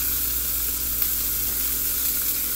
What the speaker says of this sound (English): you have your zucchini in the middle, and you stir it around to brown it